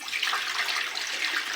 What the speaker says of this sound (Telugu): దానిలో నీళ్లు పోసుకొని,